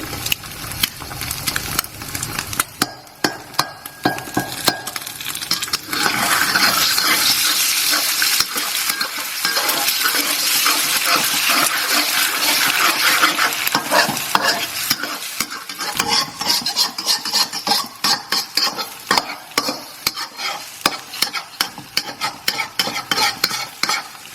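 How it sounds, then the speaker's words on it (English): Eggs frying in a hot pan while making Thai fried rice, a steady loud sizzle with scraping and stirring clatter throughout, intensifying midway then breaking into choppier bursts, no talk. "We're going to add our eggs, and we're going to wait till the white of the eggs harden."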